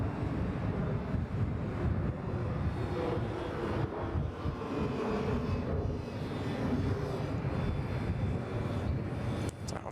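A Vietjet airliner takes off from Bangkok Suvarnabhumi Airport, its engines a steady, broad roar that holds at moderate loudness for the whole stretch, mixed with wind buffeting on the microphone.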